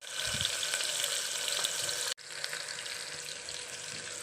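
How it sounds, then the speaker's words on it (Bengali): Onions fry in hot white oil inside a pressure cooker, giving a dense, even sizzle that drops out for a moment and then resumes. "পেঁয়াজটা আমি হালকা ভেজে নেব।"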